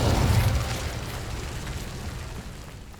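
Fiery burst from the Incendio spell in Hogwarts Legacy, a loud, rumbling whoosh that hits hard at the start and then settles into a sustained, roaring crackle that slowly fades.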